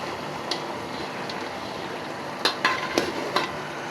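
Ground masala paste and chopped onion stirred gently in a pan, a soft steady sizzle with a few sharper scraping and clicking strokes near the end.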